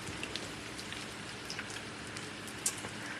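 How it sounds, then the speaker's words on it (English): Heavy rain pours down outside in a steady, dense hiss with scattered droplet ticks. It holds even and unbroken throughout, with no voices. "It's raining so hard I can't even see outside. It's just a wall of rain."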